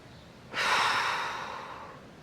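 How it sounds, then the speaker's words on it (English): One long, deep exhale during a lower body stretching routine, a soft breathy rush that starts suddenly, stays close, and slowly fades over about a second and a half. "Nice deep breathing."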